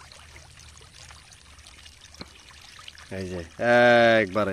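A mug of water poured out at a fish pond outdoors, a short gushing splash near the end after a quiet stretch, with someone speaking over it.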